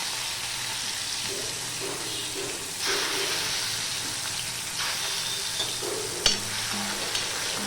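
A handful of chopped garlic with panch phoron fries in a pan over a gas flame, a loud continuous sizzle broken by stirring scrapes and one sharp clatter of the utensil.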